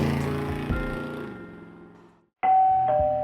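Doorbell chiming loudly after a brief silence, a clear two-tone ding-dong that follows a fading engine-like hum, heard alone.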